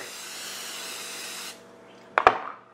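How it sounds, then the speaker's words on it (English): A steady olive oil cooking spray hisses for about a second and a half, then stops, followed by a couple of sharp clicks and a short sizzle. "spray a little of this olive oil spray on here so it doesn't stick"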